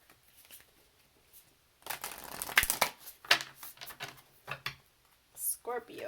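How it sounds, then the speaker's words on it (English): Tarot cards are shuffled by hand in several crisp, papery bursts of riffling and sliding, close up, with stretches of quiet between and a brief voice near the end. "it's really hard for me to shuffle the long way like this"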